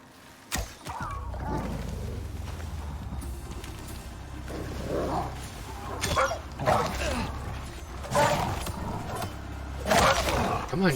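Dog in the survival game Icarus barking and whimpering in a few short bursts over a steady low engine-like drone, with someone talking intermittently alongside.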